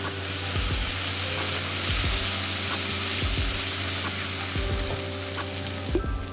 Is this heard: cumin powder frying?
yes